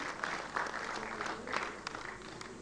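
Quiet, somewhat distant applause from an audience honoring the chief guest at an event, a steady patter of clapping with a few louder swells.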